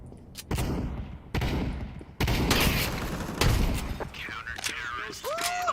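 Grenade and flashbang blasts in Counter-Strike, several sharp loud bursts spaced about a second apart, each followed by a dense ringing crackle, with game sounds and chirps toward the end.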